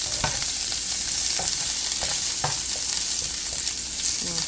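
Sautéed asparagus sizzles in a frying pan as it is stirred, a steady hiss broken by repeated sharp scrapes and taps of the utensil against the pan.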